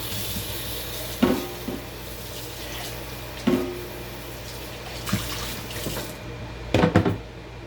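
Running water from a kitchen tap pours steadily while a container used for making coffee soap is rinsed under it, with a few clunks and splashy knocks against the sink at intervals and no talking.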